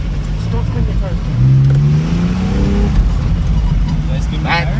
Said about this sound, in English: Did I spin my tires?